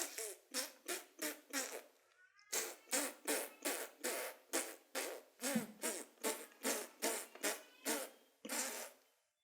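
A voice imitates a long, loud fart as a rapid train of sputtering bursts, about twenty pulses in two runs with a brief break after the first two seconds, close and alone.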